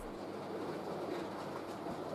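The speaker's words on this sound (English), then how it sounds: "a Nottingham Lynn 3-car set, hauled by a modified Bachmann 4F" A model Bachmann 4F locomotive hauls a three-car passenger set along a layout, a faint, steady rolling rumble with light clatter and no voices.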